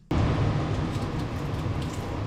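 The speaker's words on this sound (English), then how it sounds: "Right, that noise you can hear is my extractor fan." A kitchen extractor fan switches on abruptly and runs as a steady, broad whooshing roar, fairly loud and close, with no voices.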